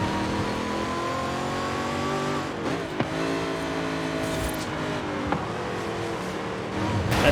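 A 2005 Ford GT races in the video game Forza Horizon 5, its engine droning loud and steady at high revs with brief shift blips and a rising rev near the end, with no talk.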